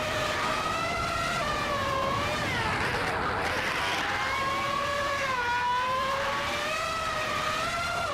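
F1 1995 race car engines in a racing video game whine steadily as several high-pitched tones glide up and down together, continuous and moderately loud with no pauses.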